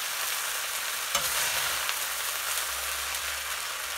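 Jeera rice is mixed gently in a pan with a light hand, giving a soft, steady sizzle under quiet scraping and stirring, close and even, with one brief knock.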